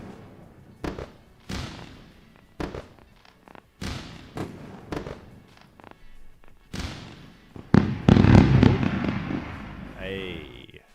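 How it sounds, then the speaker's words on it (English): Fireworks sound effect played to celebrate a winning futures trade during a live day-trading session: a string of sharp pops and bangs, then a dense crackling burst and a rising whistle near the end. "Time to run the fireworks."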